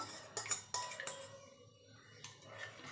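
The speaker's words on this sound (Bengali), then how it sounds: "এবার ভালো করে মিশিয়ে নেব এইভাবে" A metal spoon clinks and scrapes against a bowl while mixing homemade sweet yogurt (mishti doi) with milk, giving several sharp knocks and a soft stirring stretch, fairly quiet with no talk.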